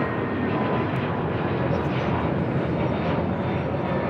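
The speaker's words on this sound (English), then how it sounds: "We do have Delta Airlines Flight 451 heading to Orlando, Florida. It's our first takeoff here on the south side at 25 right." A Delta Airlines jet, Flight 451 to Orlando, takes off from runway 25 right on the south side of LAX, its engines a loud, continuous broadband roar that holds steady throughout.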